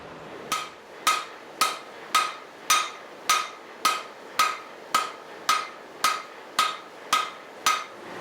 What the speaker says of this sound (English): I'll take this guy to the power hammer and just kind of stretch it out in both directions